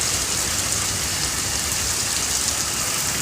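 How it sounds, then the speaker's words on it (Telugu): Heavy rain pours down in Karimnagar, a dense, even hiss that stays loud and unbroken the whole time. "గతంలో ఇలాంటి వర్షం ఎప్పుడు చూడలేదని అంటున్నారు"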